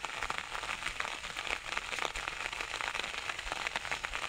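Heavy rain falls in the Konark area in Odisha, making a dense, even hiss of drops that runs without a break, fairly faint and with no voices.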